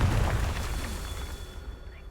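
A Confringo fire-spell blast from the Hogwarts Legacy video game, a loud booming burst with a low rumbling body that swells at the start and then slowly fades out over a couple of seconds.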